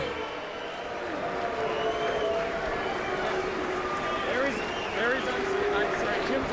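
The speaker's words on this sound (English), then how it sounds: "Let's have a round of applause." Arena crowd at a boxing match cheers and applauds the undisputed lightweight champion after the decision, a steady roaring wash of clapping and shouts with an announcer talking over it.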